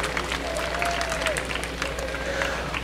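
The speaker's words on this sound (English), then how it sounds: "Give yourselves a round of applause, everybody that got one of those track signs this year." Crowd applause at a Relay for Life charity event in California, Pennsylvania, continuous scattered clapping from a large outdoor group heard at a moderate distance, with some cheering voices over a constant low hum.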